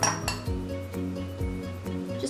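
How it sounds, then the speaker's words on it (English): A spoon scoops edible cookie dough into a bowl, with a few crisp clinks of metal on dishware over steady background music. "So I'm gonna take a scoop of my cookie dough and just"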